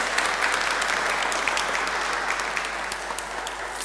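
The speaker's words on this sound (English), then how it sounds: "Give Miles a clap" Steady audience applause at a church Sunday talk, a dense even wash of many hands clapping at moderate distance for a few seconds with no voices over it.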